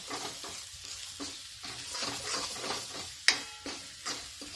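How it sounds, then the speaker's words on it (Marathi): Masala frying in oil in a pan for chicken masala, heard up close as a soft, uneven sizzle broken by bursts of stirring and one sharp metallic clink, with no voices. "असं छान तेल सुटेपर्यंत फ्राय करून घ्यायचा"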